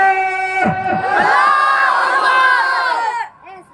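A large religious gathering answers a preacher's call with a massive unified shout of takbir, a loud sustained roar of many voices lasting a few seconds before cutting off.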